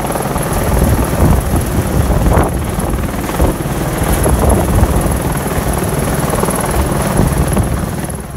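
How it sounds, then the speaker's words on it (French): A gendarmerie rescue helicopter, involved in a winching rescue in the Auvergne, roars loud and close with a continuous rotor and engine drone throughout. "ils ont envoyé l'hélicoptère de gendarmerie, donc on a eu l'intervention de l'hélicoptère"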